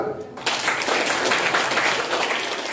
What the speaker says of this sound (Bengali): একটা হাততালি হয়ে যাক আরেকবার